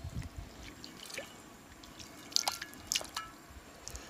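Water rinses out a disco cooker outdoors, scattered close drips and small splashes with faint trickling, sparse and fairly quiet.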